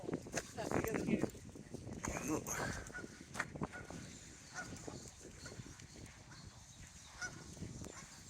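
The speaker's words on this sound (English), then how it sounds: "Look at the swans and the geese." Geese honk in Queens Park, Blackburn, with several loud calls bunched at the start, then scattered quieter honks. A person talks over the birds throughout.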